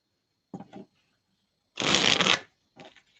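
Tarot cards being shuffled in three short riffled bursts, close and crisp, with quiet pauses between and a longer riffle in the middle.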